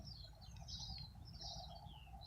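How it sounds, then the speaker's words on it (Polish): Birds sing and chirp softly in a garden over a low background hum, several small calls overlapping in a quiet morning chorus. "Pogoda piękna ptaki śpiewają, jest jeden wielki gwar poranny."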